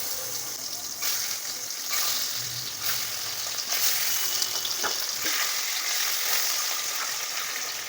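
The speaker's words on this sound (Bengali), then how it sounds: "যতক্ষণে ডিমগুলো ভাজা হচ্ছে" Duck eggs frying in very hot oil in a pan, a steady loud sizzle and crackle that runs continuously with occasional bursts of spattering.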